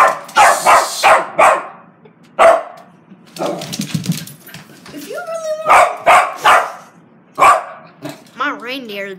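A dog barks in quick repeated bursts, close and loud, then yelps and whimpers in between, mixed with people talking nearby.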